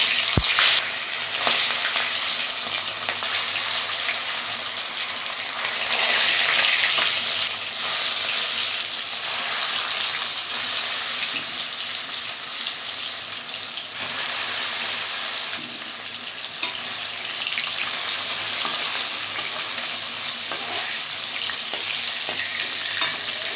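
Hilsa fish frying in hot oil in a home kitchen, giving a steady, close, bright sizzle that swells and eases with occasional crackles and stirring, with no talk over it.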